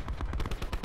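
Rapid automatic gunfire in the video game Black Ops 4, a quick run of about ten close, evenly spaced shots over less than a second.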